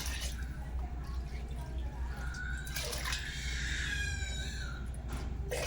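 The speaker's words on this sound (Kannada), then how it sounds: "ಮತ್ತು ನೀರು ತೊಗೊಂಡು 8 ಕಪ್ಪು ನೀರು ಹಾಕ್ತಾಯಿದ್ದೀನಿ" Eight cups of water poured into a cooker for tomato bath, a soft splashing stream with a rising filling tone partway through, heard over a constant low background hum.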